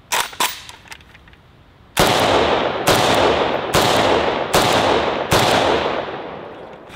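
Five loud, sharp gunshots from an overgassed Kalashnikov AK rifle crack out at a steady rhythm, each with a long echoing tail, after a few fainter clicks and handling noises.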